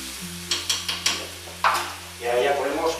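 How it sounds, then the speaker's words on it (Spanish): Asparagus broth stirred in a frying pan, with a series of close scraping strokes followed by a burst of bubbling sizzle. "Y ahora ya le echamos el caldo de los espárragos. Ahí. Removemos un poquito."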